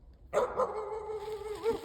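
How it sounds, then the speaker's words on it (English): A stray dog barks outdoors in a wooded area, a close, loud run of barks and yips with a whimpering edge that carries through almost two seconds after a brief quiet start. "This dog don't belong over here."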